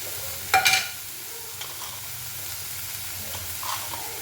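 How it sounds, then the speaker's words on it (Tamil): Small tofu pieces fry in a pan with turmeric and chili powder, opening with a short burst of stirring clatter, then settling into a low, steady sizzle. "ஸ்மால் பீஸாக கட் பண்ண டொஃபு போட்டு கொஞ்சம் லைட்டாக ஃப்ரை பண்ணி எடுத்துக்கலாம்"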